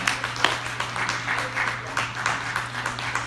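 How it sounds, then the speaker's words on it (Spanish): Congregation applause in a church service, a steady wash of many hands clapping with a low hum underneath and scattered louder claps, filling the room throughout. "¿Por qué no le das un aplauso al Señor?"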